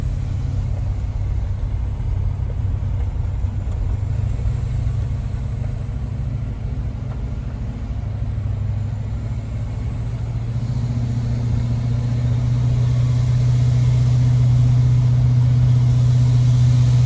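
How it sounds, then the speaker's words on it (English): Exhaust brake on a tuned 2020 Ford 6.7 Powerstroke diesel truck with a 5-inch exhaust, towing a gooseneck dump trailer: a loud, low, steady engine drone that deepens and strengthens near the end. "So I'm gonna push the brake pedal and engage the exhaust brake"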